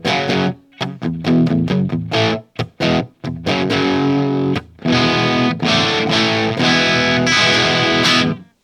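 An electric guitar played through a Fender Tone Master Pro amp model rings out loud and distorted, with choppy staccato chords at first giving way to sustained, chorus-tinged strummed chords, alone without speech.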